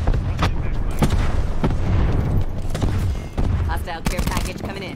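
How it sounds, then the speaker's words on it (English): Cluster grenade detonating in a first-person shooter game, a rapid string of booming blasts overlapping for several seconds, with game voice callouts over the explosions. "Throwing cluster grenade."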